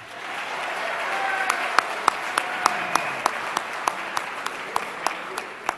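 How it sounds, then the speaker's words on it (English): Crowd applause at an opening day event, a steady bed of many hands clapping with one nearby clapper landing sharp, evenly spaced claps over it. "let's give everyone a round of applause"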